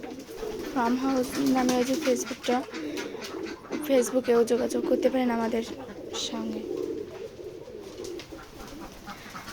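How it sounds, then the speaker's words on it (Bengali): Pigeons at a village pigeon farm in Betikhola, Keshabpur, Jessore coo in repeated throaty rolling calls, close and fairly loud, while someone talks over them. "আমাদের কাছে সব ধরনেরই কবুতরের বাচ্চা আছে এবং কবুতর আছে।"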